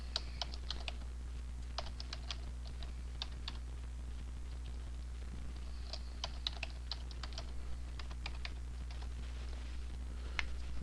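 A password typed on a computer keyboard in quick bursts of light key clicks, near and soft, with short pauses between groups of keystrokes.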